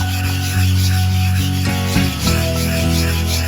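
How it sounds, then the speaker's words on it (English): A biscuit bone is scrubbed back and forth across the surface of a super hard manual sharpening stone, giving close, loud, gritty rubbing strokes with a brief pause midway and no talk. "you use the biscuit bone to scrub the surface of the super hard manual sharpening stone you want to use"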